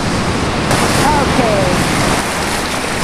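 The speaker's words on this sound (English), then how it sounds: "see these waves coming at us. There's some big ones out there" Loud ocean surf and gusting wind roar beside a pier during Hurricane Sandy, forming a dense, continuous wash of noise, and a person briefly speaks over it.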